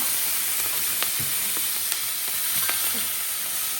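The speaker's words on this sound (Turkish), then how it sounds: "Şöyle de kızarsın bunları" A steady bright sizzle of vegetables frying in a pan, with occasional soft clicks and stirring scrapes throughout.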